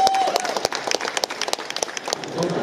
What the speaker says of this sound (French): Tonnerre d'applaudissements pour le chef.